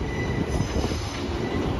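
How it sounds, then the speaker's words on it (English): A West Midlands Railway unit from Birmingham New Street rolls into Shrewsbury station with loud, continuous rumbling and a persistent high-pitched squeal from the wheels, close by and without voices. "a West Midlands Railway service terminated here from Birmingham New Street"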